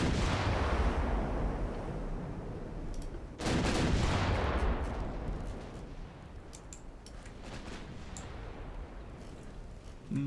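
Heavy warship guns fire in Ultimate Admiral Dreadnoughts: a loud booming salvo opens, a second big blast lands around the four-second mark, and thinner, sharper shots ring out over a long fading rumble.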